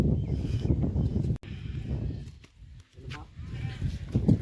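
A flock of goats with paint-marked coats bleats repeatedly, close and fairly loud, with bleats overlapping amid background voices and rustling.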